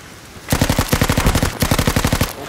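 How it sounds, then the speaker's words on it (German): Suppressing machine gun fire in the Battlefield V video game: two sustained bursts of rapid, loud automatic shots with a short gap between them. "Ich gebe Sperrfeuer drauf"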